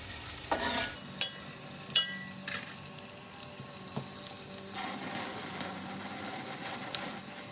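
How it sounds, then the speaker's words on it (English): Onions and garlic sweating with chorizo in a pan, giving a soft, low sizzle with a few distinct clinks and scrapes of a utensil near the start, nearby and fairly quiet. "We're just going to sweat these onions and garlic down until they're translucent."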